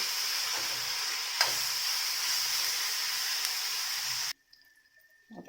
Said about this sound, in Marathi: आता कांदा हा भाजू दे